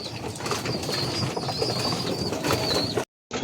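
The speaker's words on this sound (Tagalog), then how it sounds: "Ito guys, ang mga ibon natin na nasa diving board." Young pigeons perched on a diving board coo, and wings flap, amid outdoor background noise, with a faint high tone running through, ending abruptly in a brief silence.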